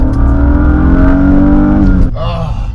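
A car engine revs hard during a handbrake drift attempt with a stock cable handbrake, a loud, close droning roar that holds steady and then drops off abruptly near the end, with a voice talking over it.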